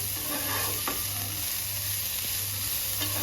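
Carrots, beans and onions fry and get stirred in a pan, giving a steady close sizzle with a few soft utensil scrapes and no talking.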